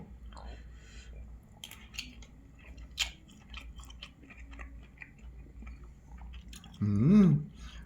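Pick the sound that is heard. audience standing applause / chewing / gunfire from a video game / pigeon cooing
chewing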